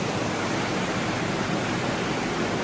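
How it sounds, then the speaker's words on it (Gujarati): A loud, steady roar of heavy rain and rushing floodwater during a night flood in Rajkot, with water entering homes, continuous and unbroken, with no voices. "મિત્રો બહુ જ વરસાદ પડ્યો છે અત્યારે"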